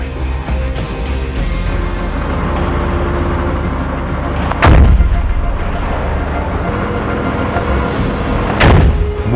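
Army helicopter weapons fire at a military shooting competition sounds as two heavy, booming blasts several seconds apart, over a constant loud roar of rotors and engines.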